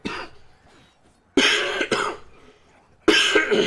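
A person with congested sinuses coughs and clears their throat in several sharp, close bursts separated by short pauses, with no talking.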